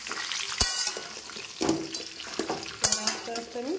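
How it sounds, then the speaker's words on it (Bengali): Mango pieces for pickle frying in a pan, with loud metallic spatula clanks and scrapes against the pan over a soft sizzle, close by, plus faint background noises. "আস্তে আস্তে আমি এইগুলোকে ভালো করে ভেজে নেব"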